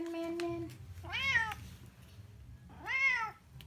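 A pet cat meows twice, two clear drawn-out complaining calls about a second apart, close and fairly loud over a quiet indoor background while wet cat food is being served.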